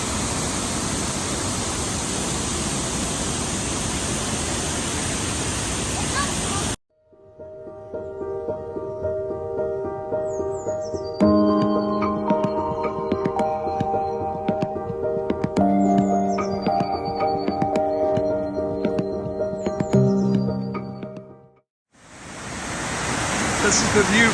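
A roughly 60-foot waterfall in Cuyahoga Valley National Park pours a heavy volume of water, a loud steady broadband rush at the start and end, with music filling the middle stretch.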